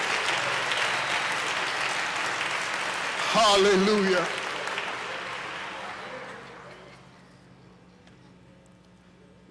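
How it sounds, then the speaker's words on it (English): A church congregation claps in a broad wash of applause that swells briefly and then fades away, with a voice calling out over it. "you want to clap your hands for real"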